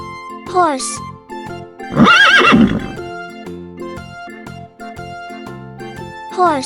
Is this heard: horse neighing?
yes